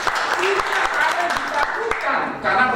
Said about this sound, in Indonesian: Mau tepuk tangan buat Tuhan